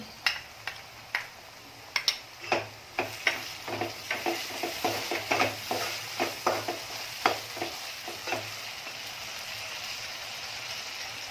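Onion and capsicum frying in a pan as Schezwan chutney is stirred in for pav bhaji, with a steady sizzle under irregular clacking stirring strokes close by that thin out into a continuous hiss.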